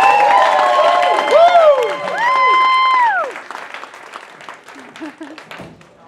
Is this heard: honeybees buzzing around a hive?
no